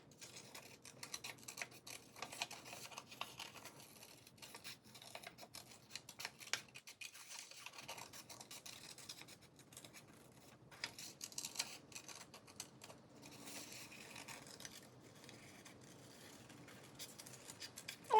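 Scissors cutting out a paper flower outline, a long run of quiet, close crisp snips and rasping cuts with brief pauses, no talking.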